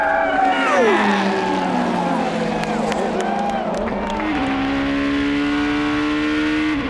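A sports prototype race car at the 2009 American Le Mans Series round at Road America screams past at full throttle, its loud engine pitch climbing and dropping sharply through several quick gear shifts.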